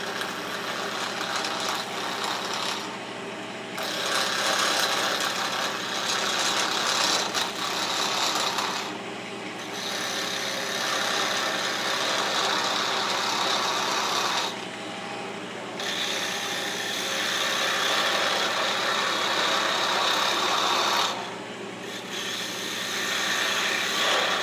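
Wood lathe spinning at about 2,000 RPM while a spindle gouge turns a keychain, a steady whirring hum overlaid with long bursts of scraping and hissing cuts that stop briefly several times, close and loud, with no talk.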